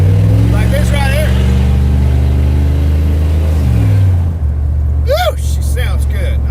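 A car engine drones at a steady low rev and then drops, its exhaust rumbling throughout while people talk over it.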